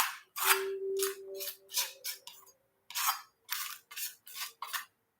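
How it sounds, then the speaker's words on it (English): Gesso being scraped across an art journal page, a series of about ten crisp rasping strokes, each short and close, separated by brief pauses, with no talking. "we're going to do a little bit of scraping just to break up some of that"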